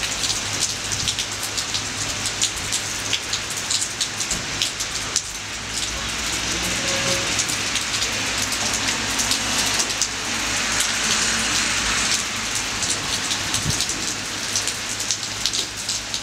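Heavy rain pours down during a bike trip, a dense, steady hiss of drops drumming on surfaces close by, continuous and loud throughout with a low rumble beneath and occasional faint voices.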